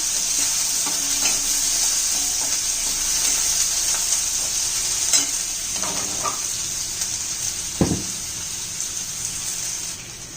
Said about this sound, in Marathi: कांदा चांगला परतून घेऊया आपण मऊ होईपर्यंत